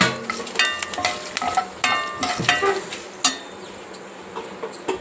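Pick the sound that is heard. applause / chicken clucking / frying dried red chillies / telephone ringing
frying dried red chillies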